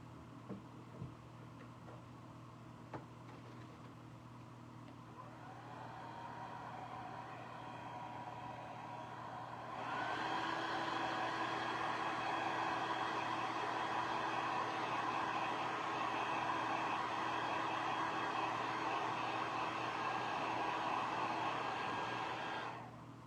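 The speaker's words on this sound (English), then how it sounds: "I'm going to use the heat gun real quick." A heat gun blows over painted craft ornaments with a steady airy whir that starts softly, then jumps louder after a few seconds and holds a constant hum alone for the rest.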